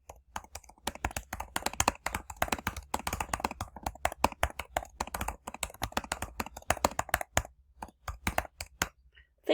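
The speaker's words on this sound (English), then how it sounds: "this is where you type your question" A question is typed on a computer keyboard: fast, irregular bursts of crisp key taps, close and clear, with brief pauses between words and a final clack.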